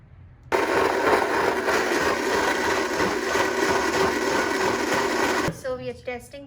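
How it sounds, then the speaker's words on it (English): A blender roars loudly and steadily for about five seconds making almond milk, then stops as a voice starts talking nearby. "So we put it in the blender."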